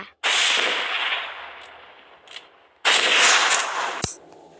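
A loud blast followed by a long hissing roar that fades, then a second sharp burst and rush, ending with a crack; no voices.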